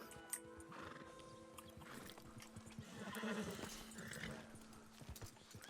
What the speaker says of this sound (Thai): ม้าขาวในตำนาน